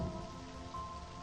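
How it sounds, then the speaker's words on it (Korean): Steady rain falls outside a window, a dense continuous patter with no break over a short stretch; there is no talk. "창밖에서 들리는 빗소리도 뭔가 달라진 것 같다."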